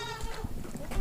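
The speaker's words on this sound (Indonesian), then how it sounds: "Ini kambing barusan didatangkan ini." A newly arrived goat bleats in a livestock shelter, with several close, wavering bleats over a dense farmyard background.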